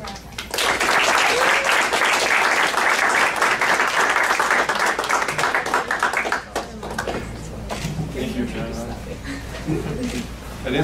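A crowd at an Armenian Genocide vigil on a university campus welcomes a speaker with loud sustained applause for about six seconds, then the clapping thins out as a voice begins speaking over scattered claps.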